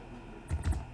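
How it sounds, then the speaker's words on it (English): Someone types on a computer keyboard, a quick cluster of a few close, crisp key clicks in a quiet room. "you can start typing immediately"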